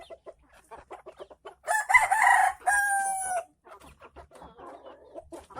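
A jungle fowl crows once, loud and close, in a two-part call midway through, while someone talks quietly before and after it.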